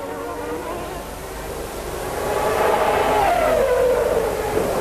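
Formula 1 cars racing around the Monaco street circuit in 1992, with a high-pitched engine whine swelling louder as a car closes in and then sweeping down in pitch as it passes near, no voices.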